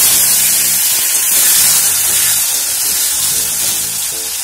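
Turmeric-and-salt-rubbed potatoes hit hot oil in a pan, giving a steady, loud hissing sizzle that holds throughout, with a low background hum and no talk.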